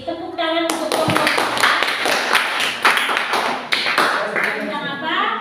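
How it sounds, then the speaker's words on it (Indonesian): Students in a classroom clap for a student group, a close, uneven burst of hand claps and taps with children's voices mixed in throughout. "Kita beri tepuk tangan untuk kelompok"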